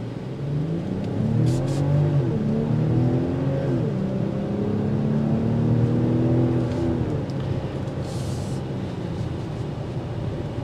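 A 2022 BMW X7 SUV on 21-inch wheels pulls away hard from a green light, its engine note rising and shifting through gears as a steady, loud cabin drone with road noise and no talking.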